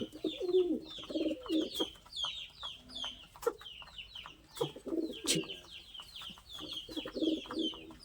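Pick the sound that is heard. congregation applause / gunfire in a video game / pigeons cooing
pigeons cooing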